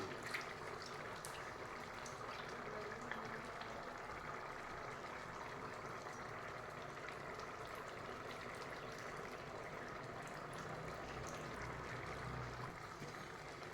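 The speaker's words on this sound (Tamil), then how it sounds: "கொஞ்சம் திக்காகட்டும், கொதிக்கட்டும்." Ragda masala bubbling in a pot, a faint, continuous simmering and gentle bubbling that holds steady throughout.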